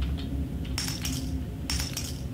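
Glass clinking in a horror video game: two bright, close chiming bursts about a second apart over a steady low ambient hum.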